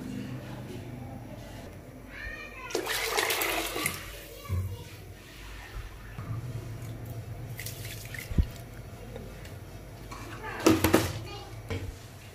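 Water and coconut milk bubble at a boil in a pot for Tamil-style brinji rice, with soft gurgles, occasional louder sloshing bursts and faint drips heard up close in a home kitchen.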